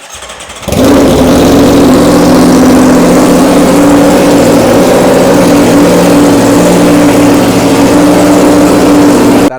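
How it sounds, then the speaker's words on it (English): An Aprilia RSV4 motorcycle cold-starts with a loud aftermarket exhaust, catching after a short crank and settling into a loud, steady, rumbling idle up close. "That exhaust is loud, but sounds so good"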